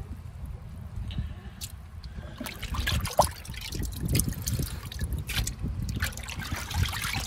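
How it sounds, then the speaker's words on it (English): Alligator hides being sloshed around in a tub of oak bark tea, a continuous watery churning and trickling with irregular splashes, close by and fairly loud throughout. "Maybe slosh it around and move it around a little bit at the end of the day here."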